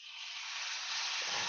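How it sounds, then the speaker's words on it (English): A teaspoon of maple syrup hitting hot quinoa in a pan gives a steady, fairly faint sizzling hiss that holds evenly for a moment, with no voices. "It kind of makes a real big crackle sizzle noise"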